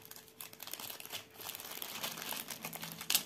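A plastic zip bag of diamond painting supplies is opened, giving soft close crinkling and rustling throughout with a brief sharper crackle near the end, quiet and without talking.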